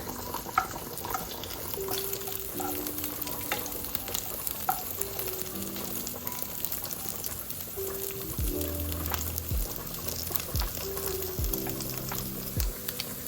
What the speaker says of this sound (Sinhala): දැන් ඔයාලට පේනවා ඇති යාළුවනේ මස් එක හොඳට බැදිලා තියෙන්නේ